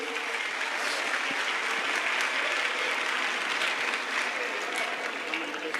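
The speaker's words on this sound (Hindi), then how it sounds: "एक बार जोरदार तालियों से स्वागत करेंगे।" Loud, dense applause from a large audience welcoming a guest onto the stage at a Hindu religious convention in India, a sustained even roar of clapping throughout.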